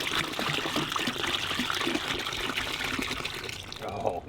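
Kool-Aid pours steadily into a pig slop bucket, a continuous close splashing trickle of liquid, with people talking faintly nearby.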